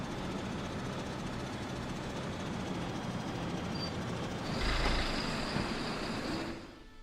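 Tractor engine in the farming video game Agricultural Simulator 2013 running with a steady rumbling drone that swells briefly, then cuts off at the end.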